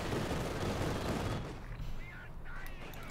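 DP light machine gun fire from the Company of Heroes 2 war game comes as a dense, loud crackling burst for about a second and a half, then drops back to quieter battle noise.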